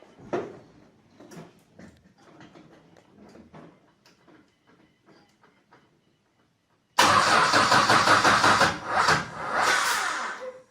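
A Hemi V8, freshly assembled with a new cam, cranks and catches after some quiet shop clatter, then runs loud and rough with ragged, uneven revving close by.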